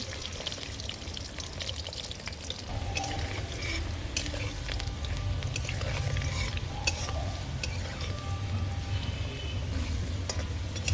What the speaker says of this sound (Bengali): আলু আমি লাল করে ভেজে নেব।